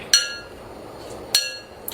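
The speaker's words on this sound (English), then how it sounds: "He can't resist banging on the bowl." A parrot knocking its beak against a glass bowl, giving two sharp, bright clinks about a second apart with a faint third tap at the end, close and clear over a quiet room.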